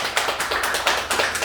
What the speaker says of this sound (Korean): 우리 이삼루 사장님 큰 박수 쳐주십시오